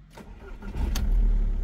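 A Volkswagen Polo Cross diesel engine with a particulate filter is started with the key, a brief cranking whirr that catches and swells into a close, loud, rumbling idle.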